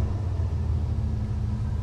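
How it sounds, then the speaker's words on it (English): Engine of an older OBD1-era car revved gently then settling back toward idle, a steady low rumble heard up close with no voices. "rev it up a little bit."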